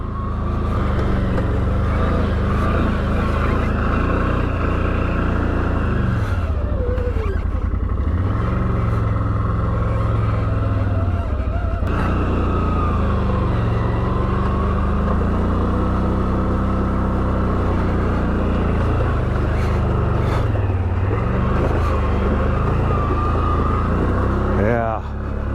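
A CFMoto CForce 1000 ATV crawls slowly over ruts and roots at White Oaks ATV Park in Nassau, NY, its loud, continuous engine drone rising and dipping in pitch under heavy rumble.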